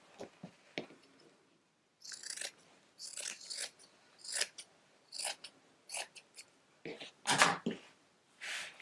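Scissors snipping excess fabric hanging over a portable ironing board, a series of short, crisp cuts in irregular bursts separated by brief pauses, close and fairly quiet.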